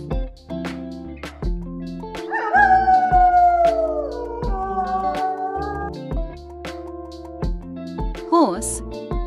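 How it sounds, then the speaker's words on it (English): A wolf howls in a long, wavering, rising-and-falling call over sharp intermittent clicks and knocks, with a second shorter howl near the end. "Wolf."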